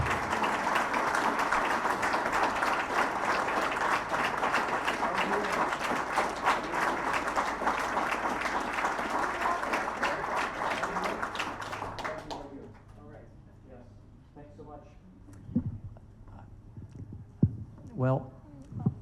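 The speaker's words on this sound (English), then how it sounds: "So let's give a big round of applause to these two guests as they come up." A crowd applauds steadily as two guests come up on stage at a British Columbia LNG industry event. The dense clapping holds for about twelve seconds, then dies away into scattered claps and room murmur.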